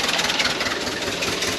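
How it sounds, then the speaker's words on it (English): A repaired Ford Model B engine idles steadily with a smooth, even low rumble and no knocking, close and continuous with no talk. "Very quiet engine."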